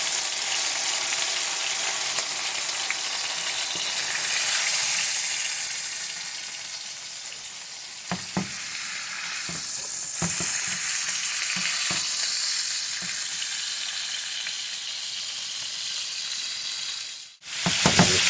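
Pot roast searing in a hot pan for a family dinner, a loud steady sizzle and crackle of frying fat running throughout, with a few brief clinks and scrapes of utensils and a sharp clatter near the end.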